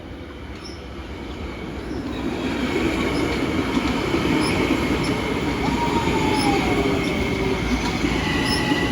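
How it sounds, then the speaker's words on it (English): A Metro North local train approaches Dobbs Ferry, its rumble growing steadily louder and closer while wheels squeal in a thin high whine over the rolling rail noise. "A Metro North local approaches Dobbs Ferry."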